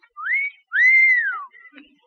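A man whistles two rising-and-falling notes, the second longer and sweeping downward, clear and close in a quiet room, followed by a faint brief trailing sound.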